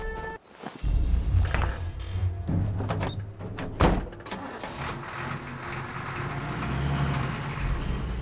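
Escape vehicle pulling up in Sniper Elite 4, an engine rumble with heavy thunks and door-like clunks, close and steady amid game ambience.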